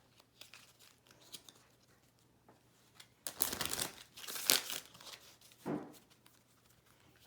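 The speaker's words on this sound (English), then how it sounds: "So what you're going to do is shuffle up the cards." Monopoly Card Game cards being shuffled up by hand: soft papery crinkling, then a couple of louder riffling bursts in the middle and a brief rustle near the end, close by with no talking.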